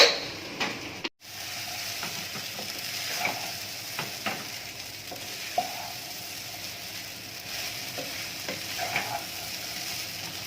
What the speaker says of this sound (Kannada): ಪೊಟೆಟೊ ಬಾಯ್ಲ್ಡೇ ಇದು ಜಸ್ಟ್ ಫ್ರೈ ಮಾಡಬೇಕು ಈ ಥರ ಬ್ರೌನ್ ಆಗು ಹಾಗೆ ಸ್ವಲ್ಪ ಕ್ರಿಸ್ಪಿ ಇರತ್ತಲ್ವ